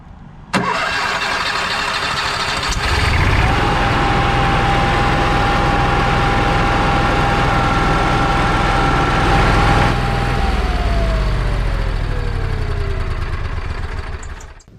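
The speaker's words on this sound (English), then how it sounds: "we're going to start up the generator for a few minutes to get the oil warm" Onan generator cranks briefly, catches and settles into a loud, steady mechanical drone with a constant hum, running close by for several seconds before the pitch sags near the end.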